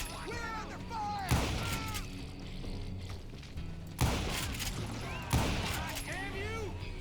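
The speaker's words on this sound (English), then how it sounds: "Who's shooting? We're under fire!" Gunfire in the Western shooter Call of Juarez: Gunslinger: three heavy close shots boom out over a few seconds, mixed with voices shouting and talking through the scene.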